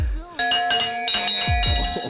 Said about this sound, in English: apparently we used that for the lunch bell